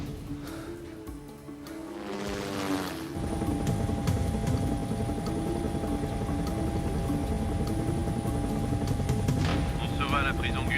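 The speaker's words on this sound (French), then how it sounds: "Prends l'hélicoptère s'il le faut." A helicopter engine and rotor drone steadily and loudly after a brief lower-pitched start-up, with voices speaking over it, in a French police action film.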